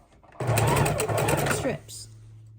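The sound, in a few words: sewing machine stitching fabric strips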